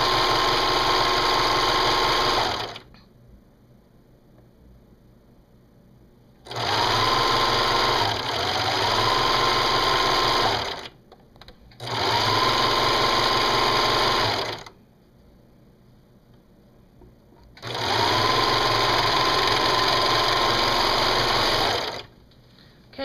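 Sewing machine stitching a T-shirt side seam joining jersey knit to woven fabric: four steady bursts of fast, buzzing motor stitching, each a few seconds long, separated by quiet pauses, close and fairly loud.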